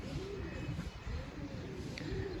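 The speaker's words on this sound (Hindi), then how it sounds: "तो आखिरी कबूतर भी नीचे आया हुआ है माशाल्लाह" Soft cooing of racing pigeons landing, low rounded coos repeating several times at a moderate distance over a steady background murmur.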